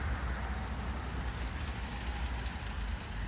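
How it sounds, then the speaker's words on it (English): Train passing by in Celebration, Florida, a steady broadband rumble and hiss heard from nearby, loud and continuous with no talk. "Here it comes. There's the train."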